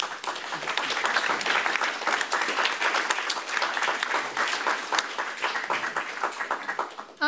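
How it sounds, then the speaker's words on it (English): A lecture audience gives sustained applause for the authors of a book on geopolitics, a dense, even wash of many hands clapping that holds steady and then fades slightly near the end. "I do want to invite one final applause for the authors of this remarkable book"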